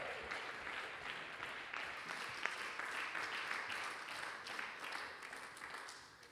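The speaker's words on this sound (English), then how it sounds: "Let's give them a round of applause." Faint, steady audience applause rolls on for several seconds as guests are invited up, with no clear voice over it.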